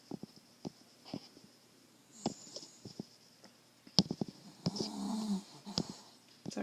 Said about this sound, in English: Sorry, my dog is snoring.